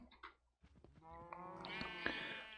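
Sheep bleating in Minecraft near their enclosure, a few short cries building into a sustained, fairly loud bleat with a clear harmonic stack.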